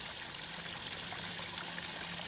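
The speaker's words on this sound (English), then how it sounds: "Nothing adds a more relaxing atmosphere to your garden railroad than the sound of falling water." Water spilling steadily from a small waterfall in a garden pond beside a garden railroad, a soft continuous trickle and splash at low level with no voices.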